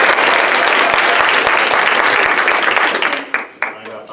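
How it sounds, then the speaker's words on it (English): A school audience applauds a teacher at a Teacher of the Year event with loud, dense clapping and cheering that holds steady for about three seconds, then thins into scattered claps as it fades. "a big round of applause for Mr."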